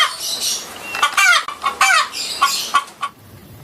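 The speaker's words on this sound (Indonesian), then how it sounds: "Muncullah ayam jantan." Cartoon-style rooster sound with a run of clucks and a short crow, close and loud, alone with no talk over it, heard during a children's animal cleaning segment.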